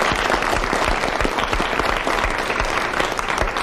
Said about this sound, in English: I think she needs a round of applause